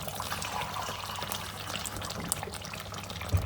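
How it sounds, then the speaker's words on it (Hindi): Water is poured into a pot of degi-style chicken korma after the masala has been fried. It makes a soft, steady splashing trickle with a sizzle beneath it, close to the microphone, with no talk. "पानी डालेंगे।"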